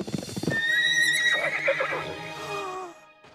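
A cartoon horse in a cowboy-themed children's show gives a loud, drawn-out whinny preceded by a quick burst of clip-clopping hooves, the call rising and falling before fading into near silence.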